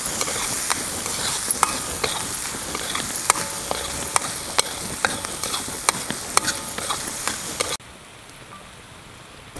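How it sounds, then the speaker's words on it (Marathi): Onion sizzles and fries in a pan while a utensil stirs and scrapes at irregular intervals, a dense crackling hiss that suddenly drops to quiet near the end. "कांदा आपल्याला चांगला लाल रंग येईपर्यंत आहे का नाही आपल्याला भाजून घ्यायचा आहे।"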